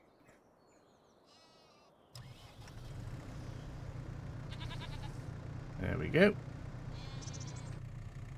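Sheep bleat in Farming Simulator 25 amid a steady tractor engine drone, with a louder cluster of bleats near the end and someone talking briefly.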